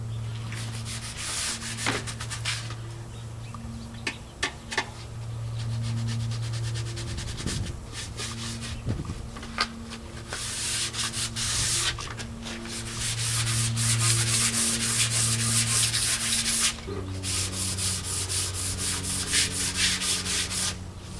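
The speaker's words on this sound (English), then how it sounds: "I'm going to just go over by hand with some 220. I'm just going to smooth out any spots that I feel a little bit of roughness" Painted wood on a simple step is hand-sanded with 220 grit sandpaper in steady back-and-forth strokes, a close, raspy rubbing that continues through the whole stretch alongside a low background hum.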